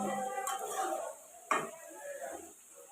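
Sliced potatoes fry in a pan for a home-cooked Bengali meal, with soft sizzling under clinking pot and utensil sounds and one sharper knock from a spoon mid-way.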